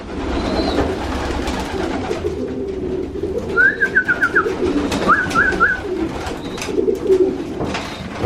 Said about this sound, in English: in this loft, there's some young birds